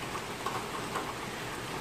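Steady rain falling outdoors at a construction site, a dense even patter of drops with a few slightly louder hits, continuous and fairly close throughout.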